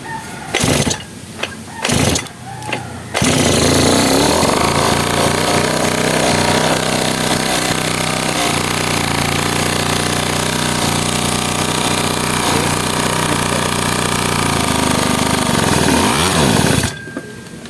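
An old mini trail motorbike engine coughs a few times, then starts and runs loud and steady for over ten seconds before cutting off.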